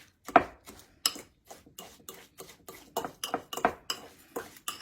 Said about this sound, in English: That's why I got a fork out to mix this up with.